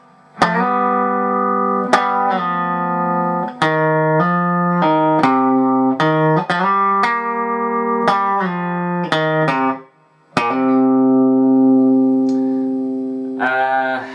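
Electric guitar playing a song's solo slowly, a clear sequence of distinct picked notes with a steady tone and effects, a brief gap near the end, with no talking.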